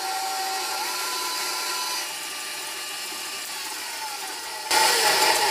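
Electric stand mixer beating macaron batter at high speed, a steady loud whirring drone that continues throughout and grows louder and harsher near the end.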